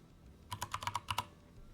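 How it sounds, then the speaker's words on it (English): A loud computer keyboard clatters through a quick burst of about eight close, crisp keystrokes, with quiet before and after. "They're gonna hear my loud-ass keyboard."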